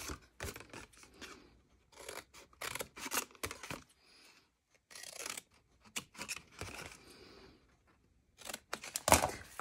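Scissors cut a paper treat-box template in a string of short, crisp snips and rustles, close and fairly quiet, with brief gaps between bursts.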